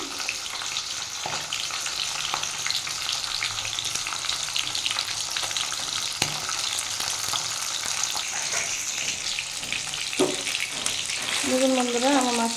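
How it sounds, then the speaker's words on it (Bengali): A fish head frying in hot oil for a bitter gourd charchhodi: a continuous close sizzle and crackle with occasional sharp pops and stirring clatter, rising toward the end. "আমি এদিকে মাছের মাথাটা ভাজতে দিয়ে দিয়েছি মাছের মাথাটা ভেজে নিই"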